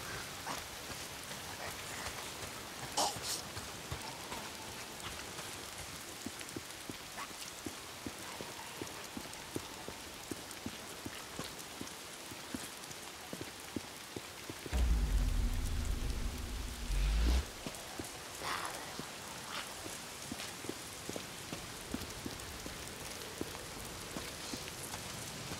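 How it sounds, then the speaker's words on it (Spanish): Steady rain falls continuously in the video game Days Gone, a dense hiss with scattered drops and a brief low thud partway through, with no talking. "Llueve siempre."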